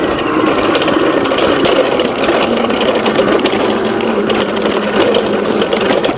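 A Qwayq Em40 electric dirt bike climbs a steep gravel hill at full throttle. Its motor gives a steady whine, mixed with constant crunching and rumble from the loose stones, loud and close throughout.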